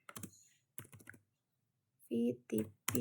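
Typing on a computer keyboard: a few quick bursts of key clicks, then a voice speaking briefly near the end of the short stretch.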